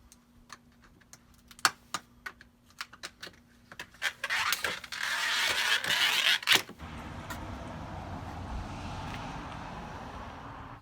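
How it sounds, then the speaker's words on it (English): A glass storm door comes off its hinges with a string of sharp clicks and metallic ticks, then scraping and rattling handling noise, close and moderately loud, settling into a low rumble. "Need to take off the glass door first to get it out of the way."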